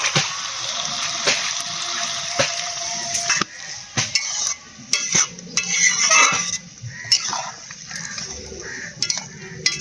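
Water runs into a pot of dried fish curry in a home kitchen, with a steady splashing pour broken by metallic clinks of the pot and utensils, close and fairly loud.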